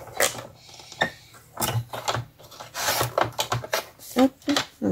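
Scissors snip and rub through jute netting taken from a clementine bag, a close series of irregular crunchy cuts and rustles, with a few soft voiced bits between them.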